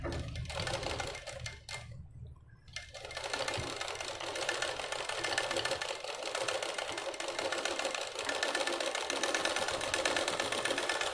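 A sewing machine runs steadily while stitching a boat-neck princess-cut blouse, a continuous close mechanical whir with a fast needle rattle that dips briefly near the start and then holds at an even level throughout.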